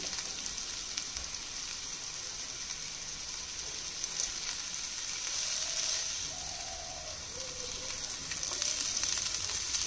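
Bitter gourd and potato fry in a pan in a home kitchen, a steady soft sizzle and hiss running throughout with faint scattered crackles and no talk.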